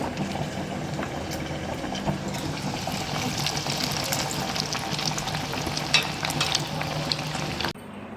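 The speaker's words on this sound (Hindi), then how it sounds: "लो फ्लेम पे इनको फ्राई करना है, ज़्यादा हाई फ्लेम नहीं रखना।" Potato pinwheels fry on a low flame for an iftar snack, giving a steady, even sizzle and bubbling oil that runs close and continuous for several seconds before cutting off abruptly, with no voices.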